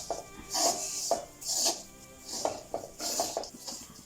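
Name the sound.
stirring coconut as it roasts in a pan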